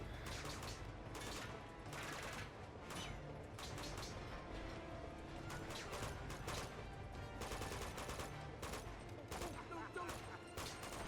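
Dense bursts of gunfire from a boss fight in an Uncharted DLC video game, with repeated shots and rattling volleys running without pause at steady loudness, though no grenade blast stands out clearly.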